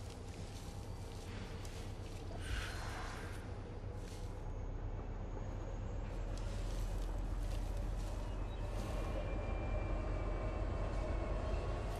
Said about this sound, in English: The train! It's ruined my plan!